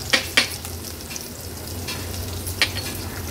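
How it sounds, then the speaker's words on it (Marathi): Turmeric and masala sautéing in oil for pomfret curry, a soft continuous sizzle broken by several sharp spoon clinks against the pan, close and moderately loud, no voices. "हळद आणि मसाला तेलावर थोडासा परतून घेतलं"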